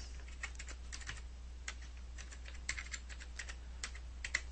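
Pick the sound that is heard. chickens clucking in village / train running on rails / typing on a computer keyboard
typing on a computer keyboard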